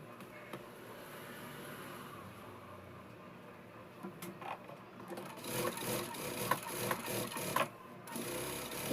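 A sewing machine stitches the sleeve of a Punjabi dress, quiet at first and then breaking into rapid, rhythmic mechanical clatter in short bursts that grow louder toward the end, with no speech.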